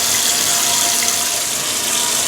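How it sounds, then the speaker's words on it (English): Hot water runs steadily from a kitchen tap in a continuous loud hiss and splash, close by, with no talking. "Turn on the hot water."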